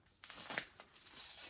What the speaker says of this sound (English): Let's get that label intact if we can. Oh, it's got tape underneath it as well.